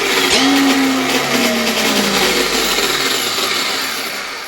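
A large, fast Lancer EVO VI RC car sits on a workbench as its electric motor whines loudly, pitching up sharply and then sliding down as the throttle is released, with a steady whirr holding underneath.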